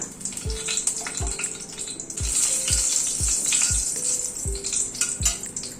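A dried red chilli sputters in hot ghee during tempering, a quiet hissing sizzle broken by a regular series of soft knocks, roughly twice a second, as the pan is worked.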